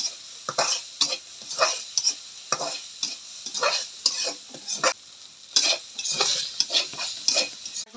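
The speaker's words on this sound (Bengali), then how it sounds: "তেল দিয়ে এখন শুটকি ভালোভাবে তেলে নেব" Dried fish (shutki) frying in oil in a wok, heard as rhythmic bursts of stirring and scraping over a steady close sizzle, repeating roughly every half second, with no talking.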